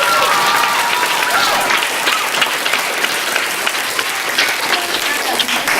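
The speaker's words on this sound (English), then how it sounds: "a special round of applause" Loud, dense applause from a large audience at a school play fills the room, a steady wash of many hands clapping without pause.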